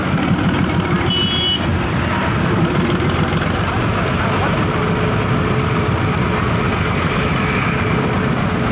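A tractor engine runs at home, a loud steady low rumble that continues for the whole stretch, with a brief high beep early on and faint voices in the background.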